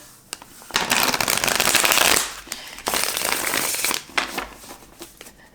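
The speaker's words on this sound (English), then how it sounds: "All right, one more shuffle." Tarot cards are shuffled in two long riffling bursts, crisp and close, followed by a few quieter taps and flicks.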